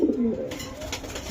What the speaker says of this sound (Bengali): আরে মাখুম, এটা কি কবুতর দাদা ভাই?